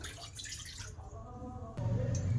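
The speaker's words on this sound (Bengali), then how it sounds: "আমি এক কাপ জল নিয়ে নিলাম আমি কড়ার মধ্যে দিয়ে দিলাম" A cup of water poured into a wok to make syrup for a Bengali sago pudding: a soft, splashing trickle that grows louder and fuller near the end, with no speech.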